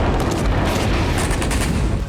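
Explosions echo through war-torn Avdiivka, Ukraine, a dense, continuous rumble of blasts and crackling bursts, loud and sustained for about two seconds with no voices.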